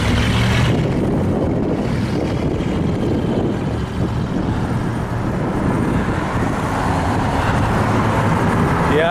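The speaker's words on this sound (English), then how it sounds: "lots of traffic, but I'm in a bike path here, so they're giving me my space" Road traffic streams past a bike path on a prairie route home, a steady, loud, close wash of engine and tyre roar that lasts throughout with no break.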